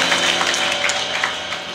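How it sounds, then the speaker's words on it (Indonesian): Audience applause at a church sermon, a steady, even wash of clapping that stays at the same loudness throughout and is heard alone. "Tepuk tangan."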